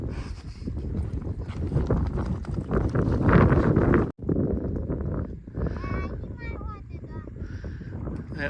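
A young horse walks along on a cattle drive in open country, its hooves clopping steadily under heavy wind buffeting the microphone, with a voice heard near the end.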